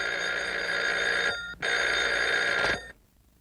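An old telephone bell rings in two long, loud, steady trills with a short gap between them, then stops in a quiet room.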